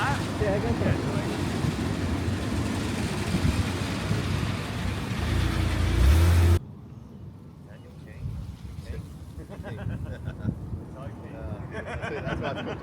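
A Holden VN Commodore car driving a lap, with a loud, steady engine and road roar that cuts abruptly to a quieter, wind-buffeted cabin rumble partway through.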